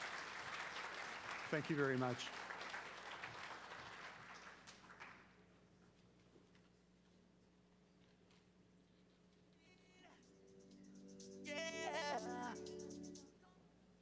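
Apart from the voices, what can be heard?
audience applause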